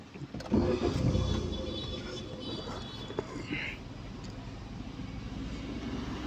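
A car engine is restarted during a driving lesson; it catches with a short burst and then settles into a steady low idle inside the car.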